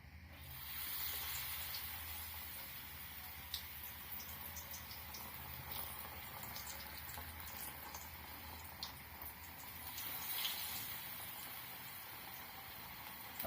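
Banana bajji fritters sizzle in very hot oil as pieces go in one by one. The hiss is steady and fine, with faint crackles and pops scattered throughout, fairly quiet and without speech.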